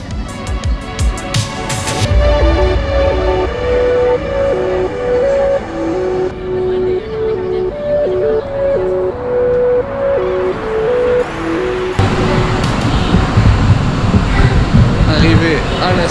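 A Malaysian metro train carriage hums and rumbles while moving, with a tonal motor whine that shifts pitch as it accelerates and brakes, plus clattering at the start and near the end.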